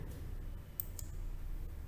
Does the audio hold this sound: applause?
no